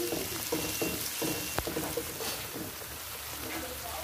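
Mushrooms and tofu stir-frying in annatto oil for a vegetarian crab noodle soup, a steady close sizzle with scattered spatula scrapes and stirring clatter throughout.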